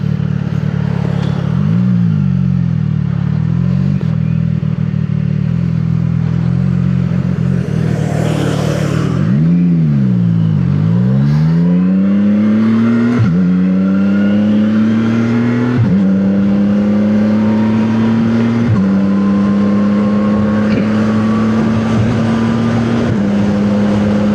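A motorcycle engine revs while being ridden, climbing in pitch through several gears with brief dips at each shift, loud and close over constant wind rush.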